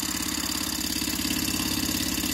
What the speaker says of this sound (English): This is my first Ryder Ericsson Stirling engine,